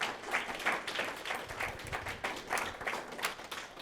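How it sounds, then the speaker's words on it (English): A symposium audience gives a round of applause for two presenters, a steady, moderately faint patter of many hands clapping with no talk over it. "Let's give our two presenters another round of applause."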